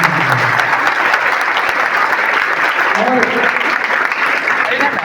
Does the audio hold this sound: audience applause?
yes